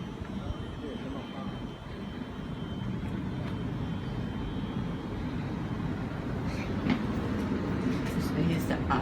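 A train passes through Ashfield station on a weekend afternoon, a steady, moderately loud rumble that swells slightly toward the end, with faint platform voices in the background.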